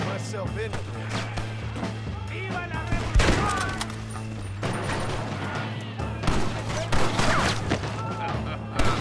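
Gunfire in the Western video game Red Dead Redemption, played on PS5: repeated shots and crashes in a busy firefight, with a sharp loud report near the third second, running under in-game voices and shouting.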